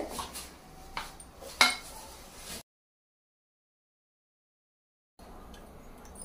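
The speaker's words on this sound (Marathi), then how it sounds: "यामध्ये आता आपण फ्लावरचे तुरे मिक्स करून घेऊयात।" Cauliflower florets are tossed into a masala mixture in a bowl, with light clinks and scrapes of a spoon against the dish, one sharper knock, then a stretch of silence before faint handling resumes.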